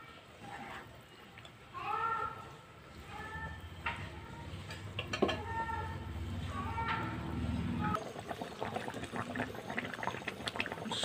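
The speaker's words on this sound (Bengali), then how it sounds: "ঝোলটা ফুটে উঠেছে, এবার ভেজে রাখা মাছগুলি দিয়ে দিচ্ছি" Mustard fish curry gravy bubbling in a pan, a steady low simmering hiss with small pops and a brief clatter partway through, heard close up with no talk over it.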